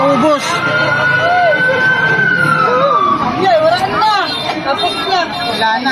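Fire truck siren wailing at a fire in Manggahan, Pasig, rising and falling over a crowd of voices and babble, with traffic noise underneath; people talk nearby throughout.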